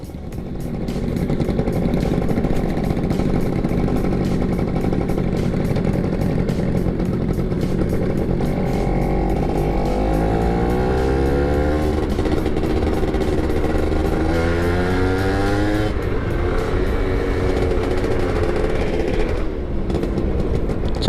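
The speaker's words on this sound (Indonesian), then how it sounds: "Ini kita mau blayer-blayeran katanya sih." Yamaha F1ZR two-stroke motorcycle engine, with a fan that may be loose, revving hard and close for about twenty seconds, a raspy buzzing drone that climbs and falls in repeated throttle blips and briefly dips near the end.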